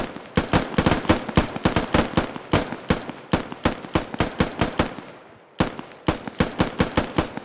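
Sustained rhythmic gunfire in the tactical military shooter Squad, a loud steady string of sharp cracks at a regular pace, pausing briefly once before resuming, with no talking over it.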